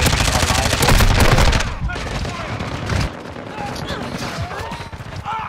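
Rapid automatic gunfire in a military first-person shooter game, loud and dense bursts at first, then sparser shots and distant rattling over the in-game soundscape.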